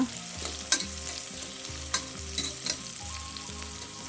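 Green chilies fry in a pan with a constant sizzle, a few sharp clinks of stirring, and background music beneath.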